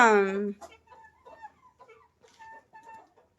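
Chickens and a rooster on a small Tamil backyard poultry farm: one loud, drawn-out fowl call at the start, then a string of softer, irregular clucks close by, with no talking.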